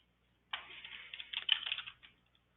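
Quick run of keystrokes on a computer keyboard, entered into a Salesforce report filter field, a close, steady burst lasting about a second and a half with no talking.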